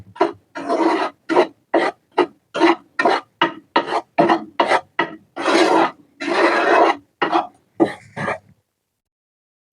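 An ingredient for laddoos dry roasted in a pan, the rhythmic scrape and rasp of stirring coming in steady bursts close by, with no talking.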